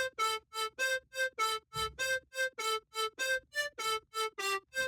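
Choppy, synthetic vocal stabs repeat in a steady rhythmic pattern, each short burst buzzy and distorted, with gaps of silence between hits.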